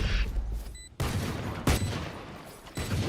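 Rapid bursts of gunfire from a Valorant match during a VCT Pacific watchparty stream, with sharp broadband shots and a sudden loud burst partway through, sitting in continuous game ambience.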